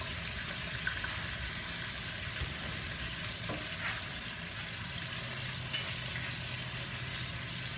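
Pot roast sears in a stock pot with a soft, continuous sizzle and crackle, heard at low volume with no talking over it.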